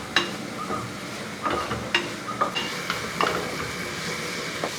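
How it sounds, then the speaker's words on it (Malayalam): Onions, ginger and garlic sauté in coconut oil for Kerala-style beef mappas. A spoon scrapes and clinks in a steady rhythm over a continuous close sizzle, with no talking. "ഇനി അതെല്ലാം കൂടെ നന്നായിട്ടൊന്ന് ഇളക്കി വഴറ്റിയെടുക്കും"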